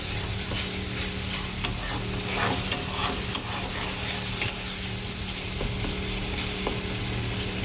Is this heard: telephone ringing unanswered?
no